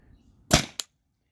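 A stock Tippmann TPX paintball marker on a remote line to a 20oz CO2 tank fires two sharp pops in quick succession, the first louder, close by in a quiet setting.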